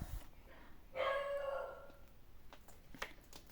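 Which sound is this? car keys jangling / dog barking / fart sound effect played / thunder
dog barking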